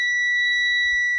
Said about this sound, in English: we will see lights on the dashboard and hear a buzzer.